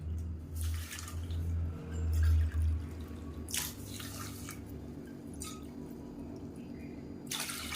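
Water splashes and trickles into a pressure cooker in a home kitchen, a soft, steady pour with a few brighter splashy bursts, faint and close against a low background hum.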